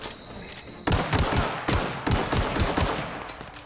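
Gunfire in the video game The Outer Worlds, a rapid burst of several sharp shots followed by further bursts, loud and close with no talking.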